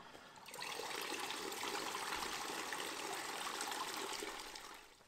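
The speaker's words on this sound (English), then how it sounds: "All right, time to drain." Water drains steadily from a portable RV washing machine, a continuous rushing gush that starts abruptly, holds for several seconds and then tapers off, heard close with no talking.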